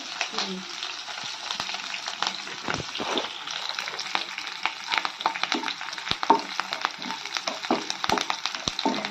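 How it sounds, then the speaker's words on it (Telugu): Onions and curry leaves sizzle and crackle steadily in hot oil in a pan for Andhra tomato tamarind rasam, a dense continuous frying hiss with scattered sharp pops and occasional stirring clatter, fairly close. "ఇప్పుడు ఉల్లిపాయలు కొద్దిగా ఫ్రై అవుతున్నాయి కదా, ఇప్పుడు మనము కరివేపాకు వేసుకోవాలి"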